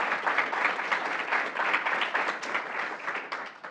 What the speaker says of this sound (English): So a round of applause, if you don't mind, for our fantastic panel.